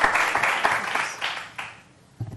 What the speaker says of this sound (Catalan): l'aplaudiment per la gent que sortia al vídeo